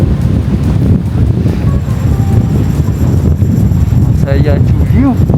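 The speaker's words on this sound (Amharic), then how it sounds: "ንፋስ አለ እንጂ" Wind blowing across the rocky rim of a rift valley gorge, a constant loud buffeting rumble on the microphone, with a person speaking briefly near the end.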